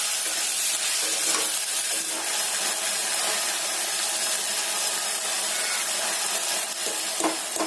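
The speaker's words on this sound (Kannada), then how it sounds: "ಈಗ ಚೆನ್ನಾಗಿ ಎಣ್ಣೆದಾಗ ಫ್ರೈ ಆಗ್ಯದ" Onions and spices frying in oil in a pan for pulao while being stirred, a loud continuous sizzle with occasional scraping strokes of the spoon.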